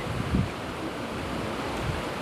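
Hot wind buffets a microphone outdoors in scorching 41-degree heat in Laos, a dull continuous rumble with a couple of brief gusty thumps and no voices.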